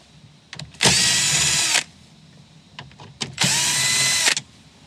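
Power drill fitted with a 7mm socket backing out trim screws on a 2012-2019 Ford Fusion, two loud, close whirring bursts of about a second each separated by quiet handling clicks.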